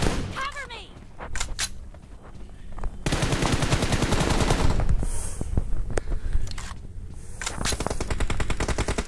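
Rapid automatic gunfire from Battlegrounds Mobile India, with dense bursts of shots, some sharp single cracks and a sustained stretch of continuous firing, loud and close, with a voice heard briefly.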